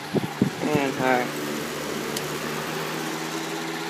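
A 2014 Kenmore 20-inch box fan running on its high setting, giving a loud, steady whooshing drone with a faint rubbing rattle from its grill; a few brief voice sounds come at the very start.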